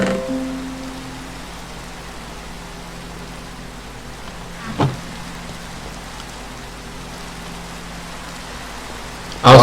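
Rain in the Minecraft video game falls as a steady, even hiss that fills the whole stretch, broken only by a brief soft thump midway and a louder bump at the very end.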